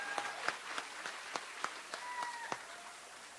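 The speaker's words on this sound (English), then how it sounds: "One more round of applause for Mrs. Santonico's Kindness Recognition Awards." Thin, scattered clapping from an elementary school audience at a fourth grade promotion ceremony, faint and distant, with a few crisp individual claps standing out from a quiet room and light background murmur.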